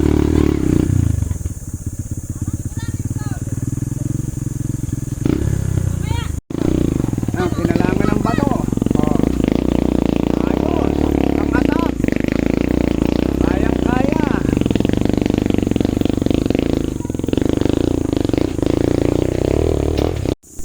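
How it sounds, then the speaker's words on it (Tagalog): Motorcycle engines rev and strain continuously climbing a rough trail in Antipolo City, Philippines, with rattling and scraping over rough ground and people talking now and then. "kaya ang mga motor hirap na hirap."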